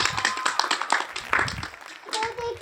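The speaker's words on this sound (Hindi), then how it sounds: "जोरदार तालियां" A burst of rapid, uneven clapping on a comedy game-show parody, close and lively, with voices talking over the claps throughout.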